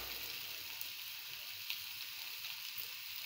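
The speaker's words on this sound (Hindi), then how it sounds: "अब इसमें हमने सोयाबीन आलू डाल दिया है और इसे चलाएंगे, भूनेंगे थोड़ा देर तक" Soybean chunks and potato stir-fried in masala in a hot pan give a steady, close sizzling hiss that runs unbroken, with faint scraping under it and no talk.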